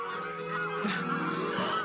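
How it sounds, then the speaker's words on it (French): A flock of geese honks continuously, many overlapping calls forming a dense, steady chorus. "Ce sont des oies, tes canards."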